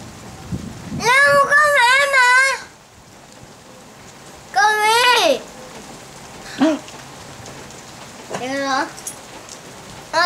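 Rain pours steadily during a storm, a constant hiss in the background while a child and others call out loudly in several bursts over it.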